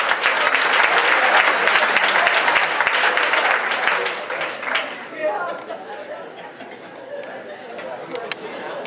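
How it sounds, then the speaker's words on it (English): An audience of corporate-seminar attendees applauds, with dense, loud clapping that fades after about four seconds into lighter scattered claps and crowd murmur. "Give yourself a round of applause"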